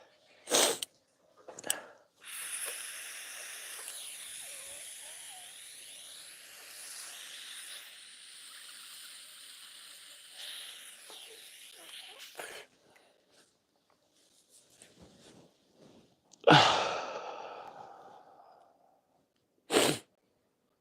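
A woman sneezes sharply a few times, short bursts standing out from a faint hissy, breathy background, with quiet gaps between them.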